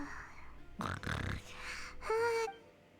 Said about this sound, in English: Damn, she snores loud